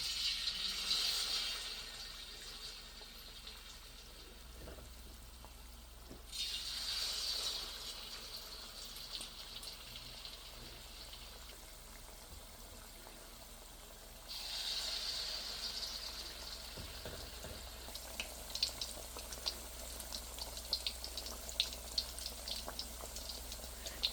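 Pitha pieces dipped in batter frying in warm oil in a wok, a steady soft hiss that swells and fades in waves, no talking.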